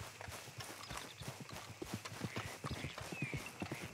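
Horse hooves clip-clop in Red Dead Redemption 2 on Xbox One X, a steady rhythmic trot with quick repeated hoofbeats throughout, close and clear.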